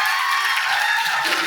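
A festival panel audience applauds with dense, steady clapping and a few cheers, a loud crowd wash filling the whole short stretch.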